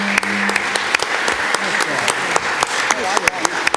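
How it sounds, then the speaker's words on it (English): An audience applauds at a town candidates night in Wolfeboro, steady clapping filling the room for several seconds, with a few voices and bits of talk mixed underneath. "We should all give you a round of applause."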